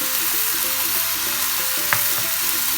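Minced chicken fries in a pan with cumin, salt, turmeric, red chilli and dried coriander, giving a steady close sizzle with a faint utensil scrape partway through and no talking.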